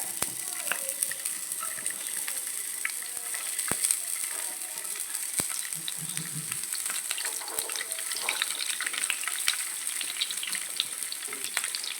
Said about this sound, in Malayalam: വെറുതെ ഒന്ന് വറുത്തെടുക്കട്ടെ